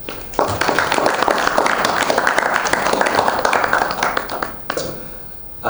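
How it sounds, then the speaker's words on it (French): Applause from the audience at a film festival press conference starts abruptly, holds as a steady clatter of many hands for about four seconds, then thins out and stops. "Et on peut les applaudir, s'il vous plaît."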